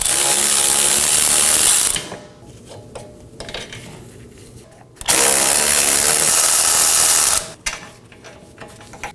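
A ratchet loosening 18mm bolts on the wheel bearing and hub assembly of a 2018–2024 Chevrolet Equinox rear knuckle, in two long, loud continuous whirring runs separated by quieter clicking.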